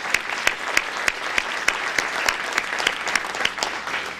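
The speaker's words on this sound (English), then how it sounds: "please give them a round of applause as well" A room of people at a panel discussion applauds the event's helpers, a steady wash of clapping with sharper individual claps popping out, continuous for a few seconds.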